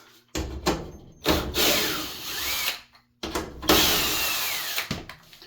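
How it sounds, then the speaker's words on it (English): A power drill whirs in two long bursts with brief pauses and clicks, backing screws out of a washing machine panel during a fill valve repair, loud and close. "we've got to take them 4 screws out"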